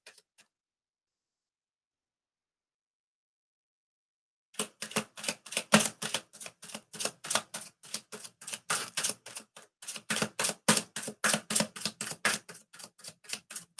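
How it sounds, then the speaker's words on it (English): A deck of playing cards at an evening tarot session is riffle-shuffled, a rapid train of crisp close clicks that starts after a brief quiet moment and runs steadily for about nine seconds. "All right, Marilyn, cards are well shuffled."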